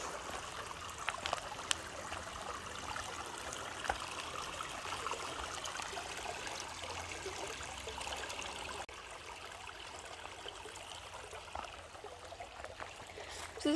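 A creek in the Ohio shale country flows and trickles steadily, a constant soft watery hiss and babble close by that carries on without pause and with no voices.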